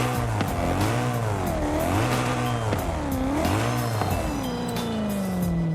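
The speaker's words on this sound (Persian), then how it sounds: "موتور فابریک چنین صدایی رو میده." A BMW M3 GTR with its stock engine revs repeatedly in a racing video game, the pitch climbing and falling in rhythmic sweeps, loud and close, with hints of tire squeal and no talking.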